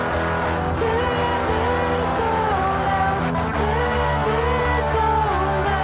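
An early pop rock song plays steadily, with a full band sound of guitars, bass and drums carrying a continuous groove.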